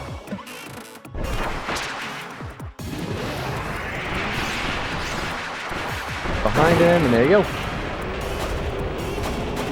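Boss explosions in Kirby's Return to Dreamland Deluxe, a series of loud booming blasts and crashes following one another, with someone talking over them.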